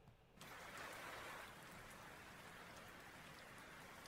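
Steady rain falling on surfaces, starting abruptly after a brief quiet moment and then continuing as a dense, even patter, faint and alone.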